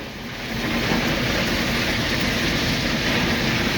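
A ballast train on a railroad, its ballast car nearly three decades old, rolls steadily along the rails with a loud, continuous rumble and faint wheel clatter, close by and with no talking.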